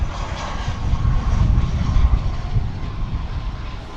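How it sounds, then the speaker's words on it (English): A passenger airliner on its approach into Dallas Fort Worth airport, a steady low engine roar that swells slightly and holds, continuous and moderately near with no talk over it. "Here's the flight coming in from Guadalajara."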